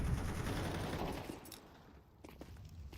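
Rapid gunfire bursts and grenade blasts in a Counter-Strike 2 match, a dense continuous barrage that thins out midway and then picks back up, with no speech.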